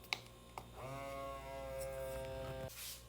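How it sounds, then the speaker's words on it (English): An electric vacuum sealer set over the top of a jar lid switches on after two sharp clicks and runs with a steady, close, tonal motor buzz for about two seconds before cutting off. "I'm going to take my vacuum sealer and place it over the top of this jar, and I'm going to turn it on"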